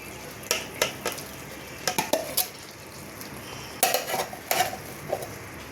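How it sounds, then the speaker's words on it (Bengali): A metal spatula scraping and tapping in a pan while lifting and turning loita fish in spice mixture, a few brief clinks and scrapes in small clusters over a faint background sizzle. "আস্তে করে তোমরা খুন্তি দিয়ে এমনি করে তুলবে, তুলে এমনি করে পেতে পেতে দেবে।"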